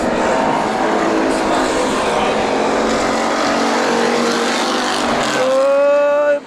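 Race cars roaring through a heat race at Perris Auto Speedway, a loud continuous engine drone close by that rises to a high whine near the end, with a commentator talking over it.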